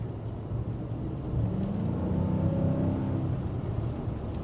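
A 2022 Nissan Titan Pro-4X pickup on Michelin Defender tires accelerates around town, its engine note rising into a steady drone over continuous road and tire noise, heard from inside the cab.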